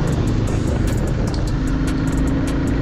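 A Royal Enfield Bullet motorcycle engine running on a road near Shillong, a steady loud rumble close to the microphone with wind noise and faint high clicks over it.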